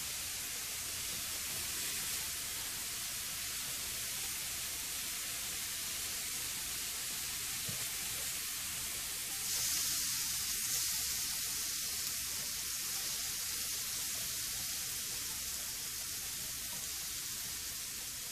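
Shrimp sizzling on a hibachi grill with soy and teriyaki sauce, a constant close hissing fry that holds steady throughout with a brief louder flare midway, no voices.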